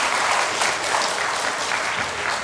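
An adult Bible school audience gives dense, sustained applause from many hands, loud and even throughout without a break.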